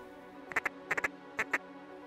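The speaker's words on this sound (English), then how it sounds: "Five ducks out front." Mallard ducks quack in a field during a Canada waterfowl hunt, a few short nasal calls in quick pairs and triplets over a low steady hum, fairly close and distinct.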